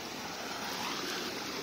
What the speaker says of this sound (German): Das hört sich nämlich so an, wenn hier eine Welle kommt einmal.